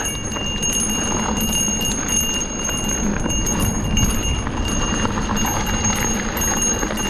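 Bicycle bell on a mountain bike rides through the Shires, its bright rings repeating over rolling trail and wind noise with no talk.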